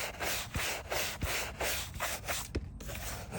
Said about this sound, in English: I'm going to do a nice wipe down with a dry brush to get all the surface debris off of it